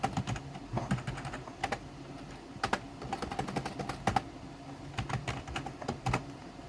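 Rapid typing on a computer keyboard while writing program code, with close, uneven bursts of crisp key clicks and brief pauses between them.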